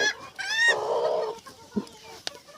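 Domestic chickens cluck and squawk on a farmyard, including a broody hen among them, with several close, loud bursts of calls and a brief low thump in between.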